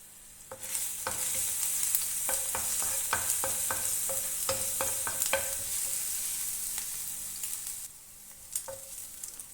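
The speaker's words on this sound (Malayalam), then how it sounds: "ഇനി ഇതിൻ്റെ ആ ഒരു റോ സ്മെല്ലൊക്കെ മാറുന്നത് വരെ ഒന്ന് റോസ്റ്റ് ചെയ്ത് കൊടുക്കാം" Crushed ginger and garlic sizzle in a hot pan for a Kerala egg roast, with repeated sharp scrapes and stirs of a utensil against the pan over a steady frying hiss.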